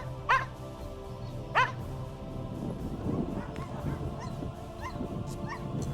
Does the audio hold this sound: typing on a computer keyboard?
no